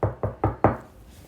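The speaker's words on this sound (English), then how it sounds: "he heard a knock." Four firm knocks on a door of a small house, evenly spaced over about a second, close and crisp, followed by quiet.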